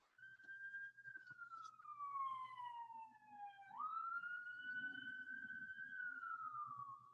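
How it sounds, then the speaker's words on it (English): An ambulance siren passing near a hospital, a single rising and falling wail that drops in pitch, then jumps back up and holds, faint and distant beneath a low steady hum. "I live near the hospital, so here comes the ambulance."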